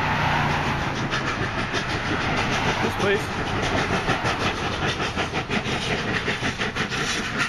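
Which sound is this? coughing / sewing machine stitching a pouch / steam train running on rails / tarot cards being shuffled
steam train running on rails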